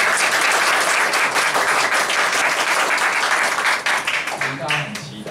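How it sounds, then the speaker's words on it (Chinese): Sustained, loud audience applause welcoming a guest teacher at a talk event, dense clapping throughout that thins slightly toward the end. "那所以我们也热烈掌声欢迎吴蔚仁老师"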